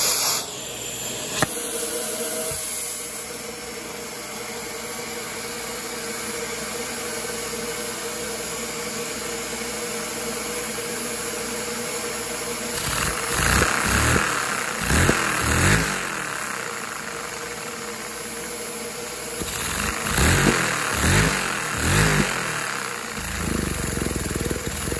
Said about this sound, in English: Put it all the way up to max throttle.